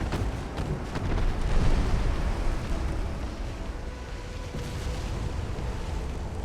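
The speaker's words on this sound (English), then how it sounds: "shells exploding inside the Denver" Naval shells burst inside the ship Denver in Ultimate Admiral: Dreadnoughts, a loud, sustained rumbling roar of explosions broken by sharp crackling blasts, swelling and then settling into a heavy, continuous rumble.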